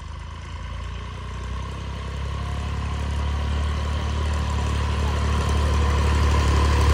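A Massey Ferguson 9500 Smart tractor engine runs steadily nearby, a constant low diesel drone that grows slightly louder over the clip, heard alone without talk.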